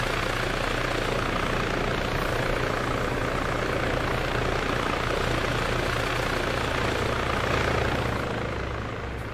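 A helicopter in the video game Arma 3 gives a loud, continuous rotor and engine roar with a steady low thrum that runs the whole time without voices.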